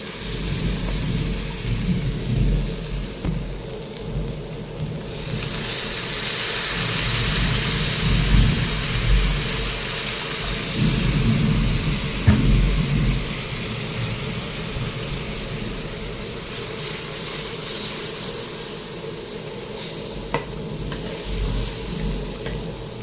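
Water poured into spice paste frying in oil in a pan while cooking a Bengali fish curry, a loud, steady hiss of sizzling that swells and eases, heard up close with no talking.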